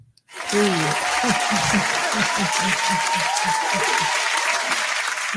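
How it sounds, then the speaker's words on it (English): An audience bursts into sustained applause that holds steady throughout, with a voice speaking rhythmically beneath the clapping. "Let's clap for that."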